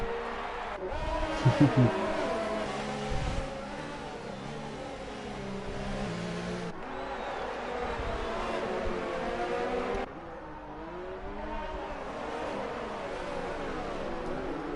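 F1 cars from the F1 2019 video game race through the Monaco circuit toward the hairpin. Fairly quiet engine whine rises and falls as the cars accelerate and pass, with commentary voices in the background.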